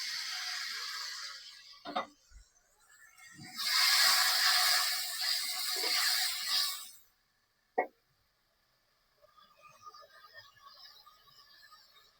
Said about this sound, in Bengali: তো আমি মশলাগুলো কষিয়ে নিলাম।